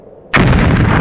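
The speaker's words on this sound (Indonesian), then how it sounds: "sebuah ledakan besar terjadi." A large explosion sound effect bursts in abruptly after a brief quiet lead-in, a loud, sustained boom that fills the whole clip.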